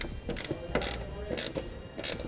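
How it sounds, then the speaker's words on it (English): Ratchet wrench snugging down a clamp on a soft roll-up tonneau cover, several short bursts of clicking pawl strokes, close and fairly quiet, no talking. "Then we'll bring in our wrench"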